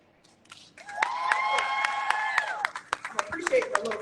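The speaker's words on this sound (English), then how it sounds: "I appreciate the little claps" Scattered light claps from an audience at a rally marking one year without access, sharp irregular hand slaps spread over a few seconds, with a voice speaking over them.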